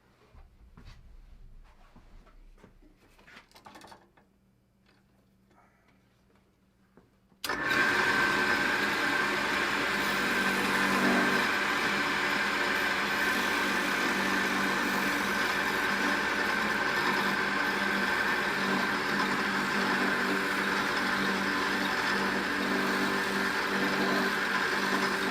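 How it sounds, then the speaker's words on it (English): A sanding attachment on a drill press shaping a wooden hatchet handle whirs loud and steady for most of the stretch, after a quieter opening of faint scrapes and handling noises. "I'm going to take it over to the sander that I have attached to my drill press."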